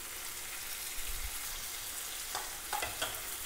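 Curry leaves sizzle in hot oil with onions while cooking kaadai egg thokku, a steady crackling fry with a few louder spits and bursts near the end and no talking.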